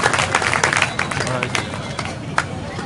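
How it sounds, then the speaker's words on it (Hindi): An audience at a Dangal event gives enthusiastic applause to welcome students, brisk clapping mixed with crowd murmur and indistinct chatter, loud and close at first and continuing at a steady level. "आप जोरदार तालियों से इनका स्वागत करें"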